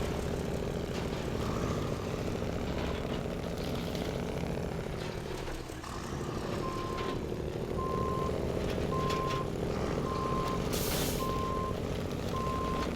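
A Kenworth truck turns around in the Snowrunner video game on the Amur map, its loud engine droning steadily with a hiss of air brakes and a run of evenly spaced reversing beeps in the second half.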